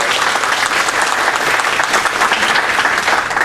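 Audience applause at a 2015 League of Women Voters lieutenant governor candidates' forum, greeting a candidate introduction: dense, steady clapping from a large crowd filling the whole stretch without a break.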